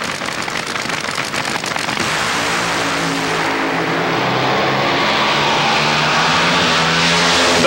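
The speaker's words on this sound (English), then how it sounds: "McCulloch was racing against the Dallas, Texas favorite, Raymond Beadle." A 1987 funny car drag race engine roars loud and continuous, a harsh wall of noise that rises in pitch as the car accelerates down the strip.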